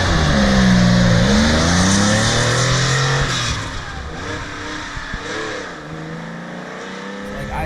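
A Cobra replica car driven with its windows cracked open, the engine revving and accelerating loudly at first, then settling to a steadier, quieter drone with some wind and road noise; faint talk may sit underneath.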